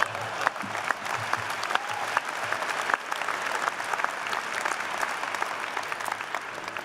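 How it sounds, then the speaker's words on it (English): A commencement audience claps in a full, sustained round of applause that holds steady for about seven seconds, many hands at once with no voice on top. "Go ahead and give me a round of applause for that."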